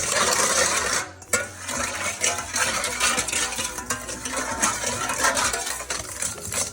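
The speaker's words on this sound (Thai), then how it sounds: "เราก็จะ คนให้ตัวน้ำตาลละลายนะคะ" A spoon stirs fish sauce and sugar to dissolve it, scraping and clinking steadily against the bowl in continuous close, busy strokes with no talking.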